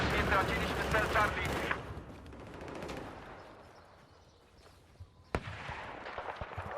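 Gunfire in the Battlefield 4 video game, where an M240B is in use: loud bursts of rapid shots at the start, then quieter distant reports and a sharp single crack near the end, with a voice talking over part of it.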